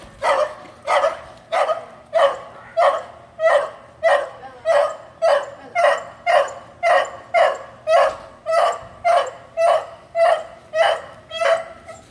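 A dog barks continuously in a steady, rhythmic series of about twenty loud, close barks, with one bark roughly every half second and no talking over it.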